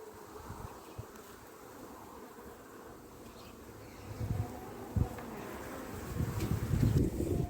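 A strong honeybee colony hums steadily in an open hive during queen grafting outdoors, a dense continuous buzz with faint wind, swelling louder toward the end.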